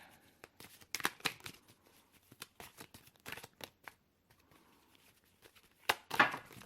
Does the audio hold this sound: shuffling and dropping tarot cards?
yes